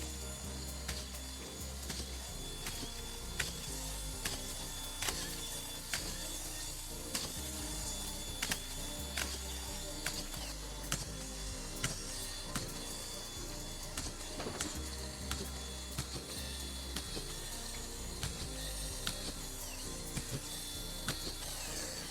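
A power drill drives screws into a board on a building job, giving repeated sharp mechanical clicks and ratcheting bursts at a steady, regular pace, close up and without talk.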